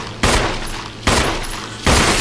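Three loud, sharp gunshots from a Resident Evil video game, fired by Chris at zombies, spaced about a second apart, each followed by a long ringing decay, with no voices.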